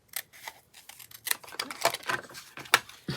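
Scissors snip through paper for Valentine cards, a quick irregular run of close, crisp cuts and rustles at fairly low volume.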